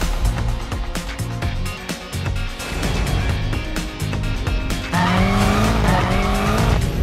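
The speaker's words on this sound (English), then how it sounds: "It's amazing driving the new M5 with Claudia around the Nürburgring." A new BMW M5 is driven hard around the Nürburgring, its engine roaring loudly as the tires squeal through corners, with the engine pitch climbing and falling continuously.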